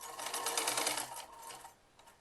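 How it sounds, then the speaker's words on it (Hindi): A sewing machine stitches the strap of a kurti in a brief close burst of fast, even mechanical whirring that stops after about a second and a half, followed by quiet. "एक सिलाई लेंगे इसमें भी ऐसे करके, देखो। अब लाएंगे फिनिशिंग में सिलाई"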